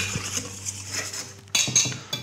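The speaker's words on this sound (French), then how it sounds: "Et on fouette." Dry almond powder, hazelnut powder, icing sugar and flour whisked in a bowl, giving a soft scratchy swish with light metallic clinks against the sides, close and moderately quiet.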